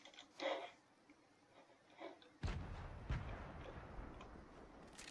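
Grenade explosions in the video game Fortnite: a sudden low, rumbling blast followed by another thump and a lingering crackling roar, after some quieter game sounds.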